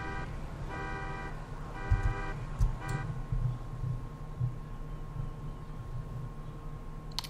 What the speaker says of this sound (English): Czy w moim samochodzie się włączył alarm?